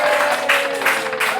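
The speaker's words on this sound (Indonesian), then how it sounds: "Tepuk tangan." An audience claps for an arriving official at a school event, a short dense burst of applause, loud and steady throughout.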